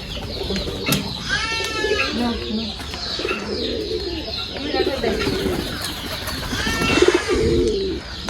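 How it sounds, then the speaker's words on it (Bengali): Pigeons bought at a market coo in a coop loft, several soft rolling calls arriving in bursts close to the microphone, with a few chirps and faint talk in the background. "আমাদের এখানে হাট থেকে আনা কিছু কবুতর আছে"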